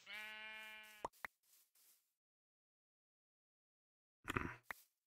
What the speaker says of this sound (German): Jetzt tauchen die Schafe auf